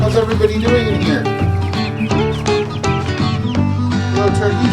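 Two-week-old Cornish meat chickens and turkeys in a farm pen cluck and call close by, a dense overlapping chorus of bird voices throughout.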